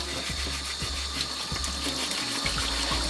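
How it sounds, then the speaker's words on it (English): Warm water runs steadily from a tap while a Taotronics warm and cool mist humidifier's cloth filter is scrubbed clean of sand, with a continuous close hiss and a few faint scrubbing knocks underneath. "Scrub off all the sand with warm water."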